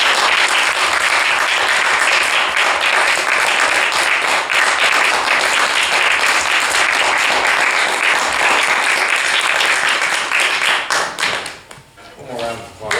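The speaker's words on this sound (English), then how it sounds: "One more round of applause." An audience at a writers' talk event claps in a loud, dense round of applause for over ten seconds, then it thins out and a voice begins speaking near the end.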